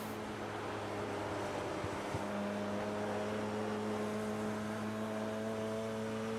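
A Radical race car's engine drones steadily on track at Thruxton circuit, then briefly dips as the driver lifts off mid-corner before the note picks back up, heard at a distance under wind.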